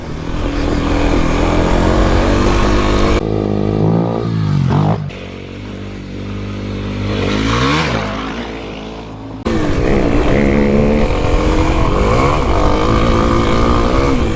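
A 2021 Kawasaki KLX300 dirt bike rides off-road on black diamond trails, its engine revving loud and close, rising and falling with throttle changes, with one quieter, lower-pitched stretch midway before it roars back.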